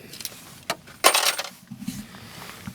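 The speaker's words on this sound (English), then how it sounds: "Two sets of keys." A second set of keys on a 2001 VW T4 Autosleeper Clubman 2.5 TDI camper van jangles and clinks in a few close metallic bursts, the loudest a short rattling shake in the middle.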